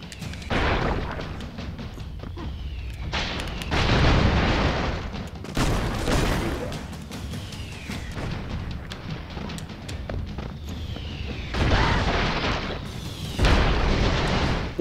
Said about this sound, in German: Ich glaube, die schießen hier Mörser oder sowas.